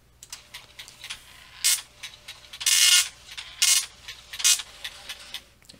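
A computer printer resets and prints a program listing, giving bursts of whirring, ratcheting print-head passes and mechanical clicks over a low steady hum, with no talk.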